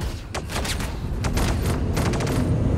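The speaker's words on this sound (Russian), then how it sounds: "Сейчас продемонстрирую вам пушки. Видите, какая огневая мощь?" Ship cannons fire in the Star Citizen space game, a rapid stream of loud repeated gunfire bursts with a steady rumbling bed underneath, sustained and intense throughout.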